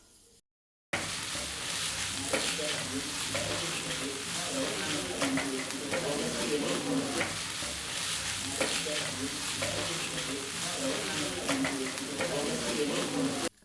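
Fresh farm mushrooms stirred in a hot pan for a chicken dish give a continuous, even sizzle and frying hiss that starts abruptly after a brief pause and stays close and steady, with light stirring noise and a voice at times.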